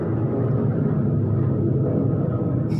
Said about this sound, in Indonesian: Sorry ada suara pesawat.